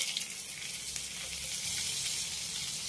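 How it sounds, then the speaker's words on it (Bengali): Tempering spices and chopped green chillies fry in hot oil with a steady, bright hiss that stays even throughout, close and without talk. "এবার আমি ফোড়নগুলোকে হালকা করে একটু ভেজে নেব।"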